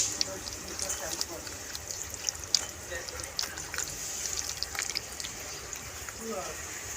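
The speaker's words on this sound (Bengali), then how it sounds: "তেঁতুলটাকে মা একটু জল দিয়ে দেখো পুরো চটকে নিয়েছে।" Ripe tamarind pulp being mashed by hand in water for pickle, faint soft squelching and light splashes close by, with someone talking over it.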